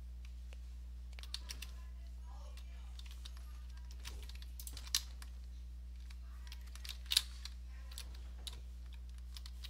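A computer keyboard clicks in irregular bursts while someone plays Fortnite. The taps are soft to moderately sharp over a constant low electrical hum.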